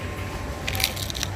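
A crisp crunch from biting into crunchy, soupless lomi noodles, one close, brief burst of crackling without any speech.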